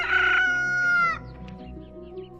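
A rooster crows once, loud and close, a long harmonic call that drops off abruptly, followed by quieter clucking and background noise.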